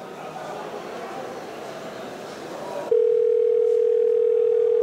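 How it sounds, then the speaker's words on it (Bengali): A telephone sounds a steady, unbroken electronic tone that starts suddenly partway through and holds loud and level to the end, after a stretch of muffled background noise. "হাবু ফোন দিছে রে।"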